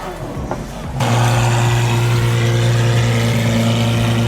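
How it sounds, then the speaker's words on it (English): A Lamborghini Revuelto fitted with a brand new exhaust starts up loudly after a second of quieter background and holds a deep, steady, droning engine note close by, strong low hum with raspy exhaust tone. "here is their Revuelto that they just put a brand new exhaust on, and it sounds amazing"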